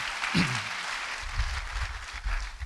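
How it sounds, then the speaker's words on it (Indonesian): A church congregation claps for someone during a sermon, a soft, dense wash of applause with a brief shout near the start and a few low murmurs or voices underneath. "Beri tepuk tangan bagi dia."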